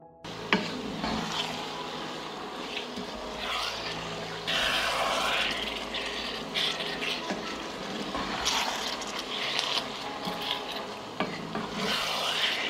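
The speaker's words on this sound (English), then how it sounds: "I will stir and cook like this for 10 minutes." A spoon stirs hot pepper sauce with parsley as it cooks in a pot, giving repeated close scraping and rubbing strokes with soft liquid sloshing, continuous and uneven in rhythm, with no talking.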